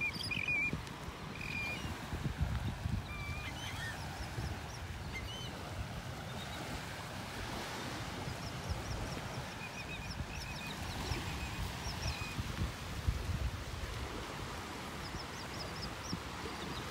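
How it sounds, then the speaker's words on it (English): Shore birds on a beach in North Naples, Florida, including seagulls, terns and sandpipers, give scattered short calls at a distance over the continuous wash of surf. "Got quite a variety here, seagulls and terns and sandpipers."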